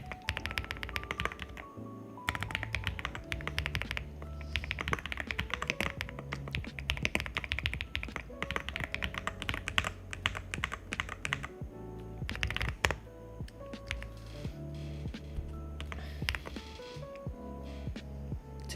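Continuous fast clacking of a computer keyboard during a coding session, dense and steady with brief breaks, close and moderately quiet over faint background music or hum.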